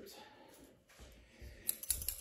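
Quiet snipping and crinkling close by, ending in a few sharp clicks of scissors cutting through a 1987 Topps baseball card rack pack.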